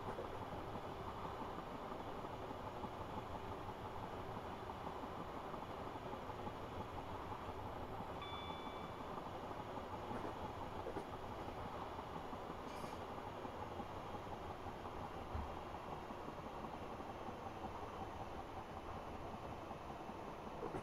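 A simulated train on the Hampton Court to London Waterloo route runs into Clapham Junction, its steady low rumble and rolling wheel noise continuous and faint, with a few brief high squeals.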